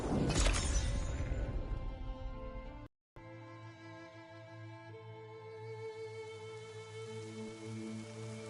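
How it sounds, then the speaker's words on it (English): Rain falls in the video game Horizon Forbidden West, a steady patter on surfaces that starts louder, cuts out for a moment, then returns more softly under a low, sustained ambient hum. "Rain once again."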